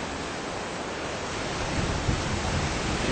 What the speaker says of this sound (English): And the big waves are breaking.